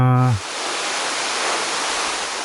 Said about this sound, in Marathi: केळवली धबधबा जवळ होता